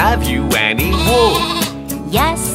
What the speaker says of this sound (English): Baa Baa, black sheep